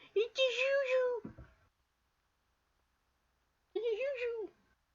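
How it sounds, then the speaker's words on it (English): A house cat meows twice, fairly close and clear, with a long pause of quiet between the two cries. "My cat's being weird as usual."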